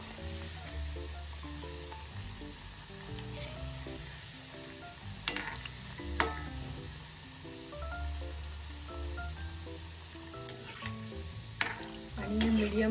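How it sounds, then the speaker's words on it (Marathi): Shakarpare dough pieces fry in hot oil over medium heat, a steady close sizzle with occasional stirring clinks and scrapes against the pan. "गुलाबी रंगावर आपण तळून घेऊया छान पैकी."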